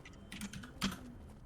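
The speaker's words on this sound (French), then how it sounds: "Ça tape sur le clavier, au secours." Keys clatter on a computer keyboard in a Fallout: New Vegas game scene, a short burst of a few quick taps with one sharper, louder keystroke near the end, heard alone.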